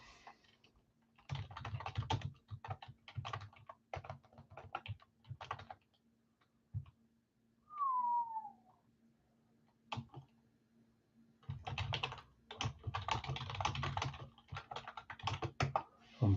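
Bursts of rapid clicking from a computer keyboard come in irregular runs separated by pauses, close and fairly quiet, with a brief electronic chirp midway.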